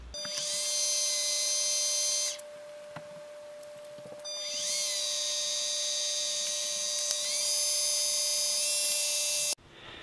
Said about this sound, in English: I'm going to go ahead and sand this in a little bit more.